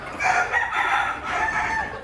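Native Bangladeshi deshi chickens clucking and a rooster crowing on a farm, fairly close, filling the whole stretch with steady overlapping calls and no talking.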